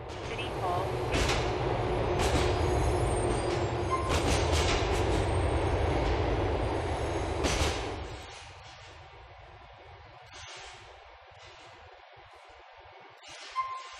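A subway-style C train in GTA IV rumbles loudly along the rails, its wheels clattering for about eight seconds before the noise drops away to a quiet, low hum with faint knocks.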